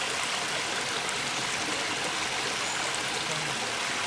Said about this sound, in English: Fresh water pours out a good amount